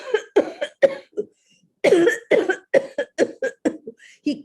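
A storyteller performs a coughing fit, with a string of harsh, close coughs in two bursts separated by a short pause, loud and rhythmic, the voice imitating a man choking on something stuck in his throat.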